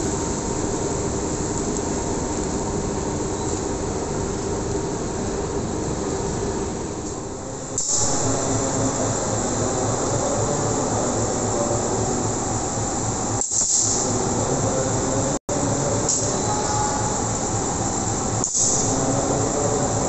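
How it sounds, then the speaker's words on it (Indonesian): Majapahit passenger train hauled by a CC 201 diesel locomotive rumbles steadily on the rails, with rhythmic wheel clatter over joints, a constant hiss and a few sharp knocks, heard close from on board without talk. "Ini lokomotif yang digunakan adalah CC 201 8320."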